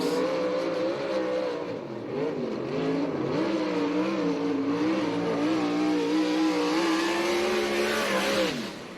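A USAC/CRA sprint car, the Kittle Motorsports Red Line Oil car, on a qualifying lap: a loud, close engine roar held at high revs, its pitch dipping and climbing through the corners for the whole stretch with no talk.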